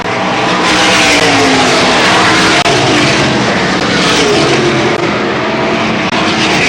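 Race cars at Selinsgrove Speedway in 1988 roar past coming off turn four, a loud, continuous wall of engine noise with no break, heard close to the track.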